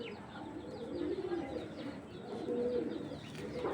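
Pigeons of fitki and beji lines coo in low, rolling phrases, two main swells around the middle and near the end, close and moderately loud over a busy background.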